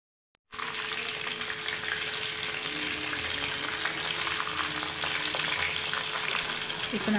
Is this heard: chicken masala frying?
yes